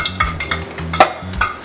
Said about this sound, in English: Now I'm going to dip it in the batter and then back into the flour.